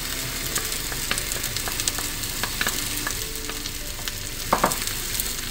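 Ground beef browning over medium heat in a pan for a potato and minced-meat gratin tart, a steady close sizzle with occasional crackles and a brief spatter of pops near the end.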